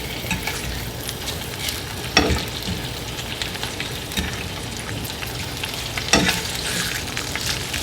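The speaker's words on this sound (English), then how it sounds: "The Canadian bacon's looking really good, so we're just going to flip this, get the other side." Canadian bacon frying in a hot pan gives a steady, close sizzle and crackle, with two sharper clatters of a spatula flipping the slices; no voices.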